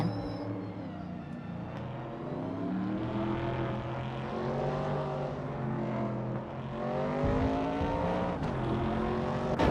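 A 1969 Chevrolet Camaro engine in a racing game drones steadily for the whole stretch, its pitch climbing and dropping through gear changes and revs, loud and close with no voices.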